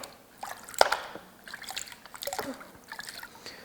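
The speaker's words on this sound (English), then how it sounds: "the last step for the rod will be rinsing it off" Water rinsing over a black oxide coated engine rod, with close, uneven splashing and dripping in short bursts and trickles, fairly quiet with no talk.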